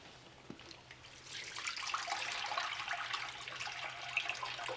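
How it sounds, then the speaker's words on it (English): Water pours and splashes steadily out of a bag after a quiet start, a gushing, sloshing stream continuing to the end. "you can dump out this water."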